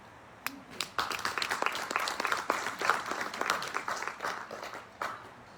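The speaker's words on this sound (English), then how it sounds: "given me the applause that I wanted you to give" Applause from a small crowd, starting with a few claps, then swelling into steady clapping before tapering off.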